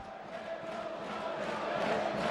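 Rugby league supporters at a St Helens versus York cup match cheering after a try, a broad sustained roar from the stands that swells steadily over a couple of seconds, heard from a distance.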